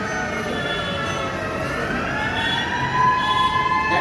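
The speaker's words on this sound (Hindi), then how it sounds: "ये एयर रेड सायरन है जब हवाई हमला होता है।" An air raid siren during a school mock drill wails, holding a long, rising tone over background rumble, swelling slightly louder toward the end.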